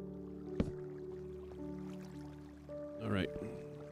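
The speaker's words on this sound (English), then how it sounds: "Oh, although I like the sound of water." Water splashes in Minecraft 1.9 snapshot, a short bubbly burst near the end over steady sustained game tones, with a sharp click earlier.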